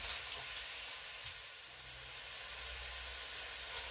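Sausage and bacon fry in a pot for Zuppa Toscana, giving a faint, steady sizzling hiss that continues alone without a break.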